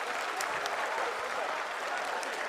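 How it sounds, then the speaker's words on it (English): A crowd applauds during a live telecast of the Chandrayaan-3 lunar soft landing, steady dense clapping from many hands that carries on without a break. "People are applauding."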